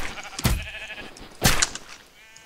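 Two loud sheep bleats in a video game, about a second apart, stand out over a faint background hum.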